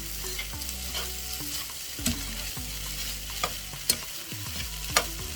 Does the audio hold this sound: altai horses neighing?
no